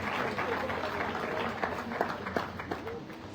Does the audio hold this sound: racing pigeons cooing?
no